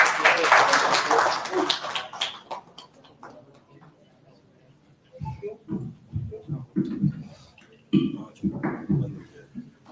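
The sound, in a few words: applause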